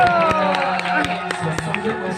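An audience at a devotional satsang claps in a steady rhythmic beat, sharp hand claps spaced evenly under loud chanting or singing voices from the crowd.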